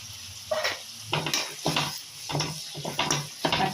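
Onions fry in hot oil with ginger garlic paste in a pan for rava kichadi, a soft sizzle broken by repeated scraping stirs of a spoon against the pan, close and rhythmic, with no voices.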